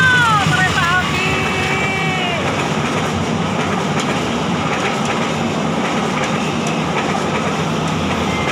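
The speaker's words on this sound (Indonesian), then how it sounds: "Oh, kereta api." A train rumbles past at steady loudness, a continuous roar with faint high squeals near the start, heard from beside a claw crane arcade machine, with indistinct voices now and then in the din.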